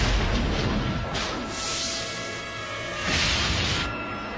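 Cannon fire and explosions in a Spanish-dubbed action film: deep, heavy booms with rumbling low end, two large bursts of blast noise rolling out a couple of seconds apart, loud and close, with no talking during the blasts.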